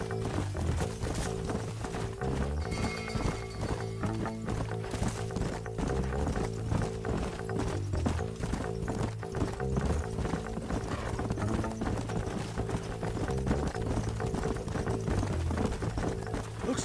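Horses gallop in the video game Red Dead Redemption, a continuous fast clip-clop of hooves under a dense game soundtrack, steady and loud throughout.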